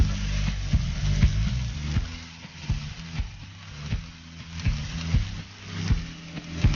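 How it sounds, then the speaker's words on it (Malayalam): Cabbage rice with grated coconut being stirred and fried in a pan, a close, continuous sizzle broken by repeated scraping and knocking of the spoon against the pan at a steady pace. "നന്നായിട്ട് ഇളക്കി കൊടുക്കും"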